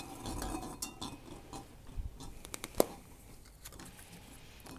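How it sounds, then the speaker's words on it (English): Plastic draw spheres clink and rattle in a pot during an official football draw, a faint, scattered run of small clicks over quiet room tone, with one sharper knock near the middle. "we're going to draw one of the spheres from"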